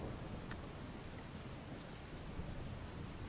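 Heavy rain falling in Jamnagar, a steady dense hiss of downpour throughout, faint and even with no voices.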